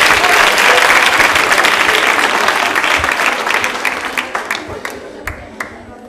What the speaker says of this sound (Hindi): जोरदार तालियां बजाइए वर्षा जी के लिए